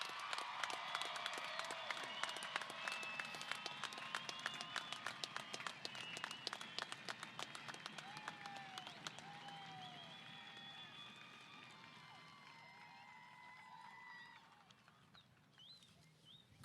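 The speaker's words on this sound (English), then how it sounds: "Let's give them all a round of applause." Dense applause fills a high school graduation ceremony at first, with scattered cheers and whistles rising over it, then the clapping thins and fades gradually toward the end.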